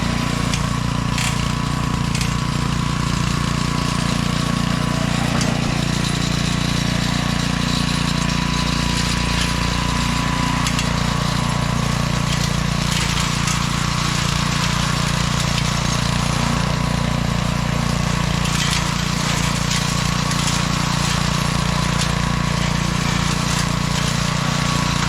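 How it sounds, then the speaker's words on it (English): A GR field and brush mower's engine runs steadily on a neglected trail, a loud, continuous drone with a constant low throb and no pauses. "This is why we brought the GR field and brush mower."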